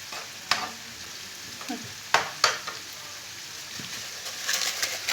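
Food fries in a generous amount of oil in a pan, a close steady sizzle broken by a few sharp clinks and stirring knocks, with no talking.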